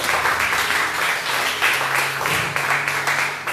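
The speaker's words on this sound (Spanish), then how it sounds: "Denle un aplauso al Señor, hermano." A church congregation at a Spanish-language sermon claps together in a loud, dense burst, with rhythmic surges of clapping running throughout and no voices on top.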